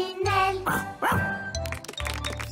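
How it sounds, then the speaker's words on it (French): A cartoon ladybird barks like a dog in a children's animated series, giving a run of voiced, yappy barks close up over light tinkling music. "Il roule sur son dos et aboie beaucoup."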